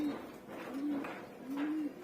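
Pigeons cooing inside a coop: three soft, rounded coo phrases in slow succession, close by, over a light background hush with no talking.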